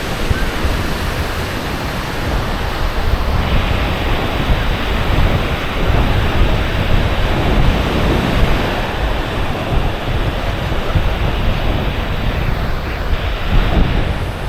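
Sea waves rolling onto Jurerê beach in Florianópolis, a steady broadband wash of surf close by, with continuous roar and gentle swells and some wind noise over the microphone.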